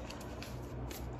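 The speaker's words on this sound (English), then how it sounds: "I do just do this little bit of shuffling for the energetic" Tarot cards are shuffled quietly up close, giving a brief run of soft riffling flicks and papery slides.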